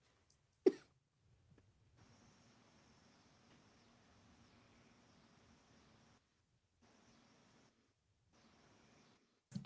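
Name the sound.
coughing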